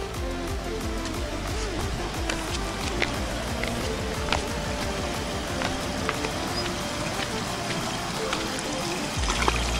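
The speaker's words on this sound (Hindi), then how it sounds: "देख सकते हैं यहाँ पर कैसे पानी गिर रहा है।" Water falls steadily in a homemade gravity battery that drives a small generator, a continuous close splashing trickle with irregular drips over a constant rushing bed.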